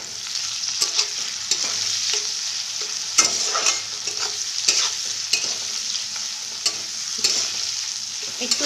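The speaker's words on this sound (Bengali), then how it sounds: "একটু তেলে একটুখানি নেড়ে নিতে হবে।" Salted vegetables stirred in a little oil in a pan, a spatula scraping in regular strokes about once a second over a steady, close sizzle, with no voices.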